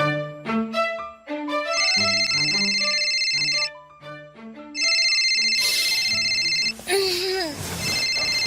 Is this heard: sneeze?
no